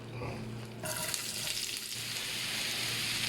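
Onion frying in pure desi ghee for a green chilli mutton keema, a steady bright sizzle that swells partway through and holds loud and close, no talk.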